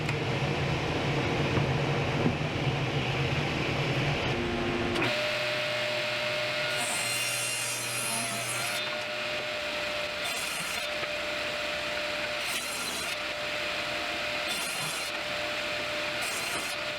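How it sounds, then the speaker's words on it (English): Table saw or power saw ripping wooden boards to final width for an entertainment center's frame-and-panel stock, a steady loud whine with the blade's pitch shifting as the cut begins around five seconds, running continuously near the microphone. "Next is to cut the boards to final width."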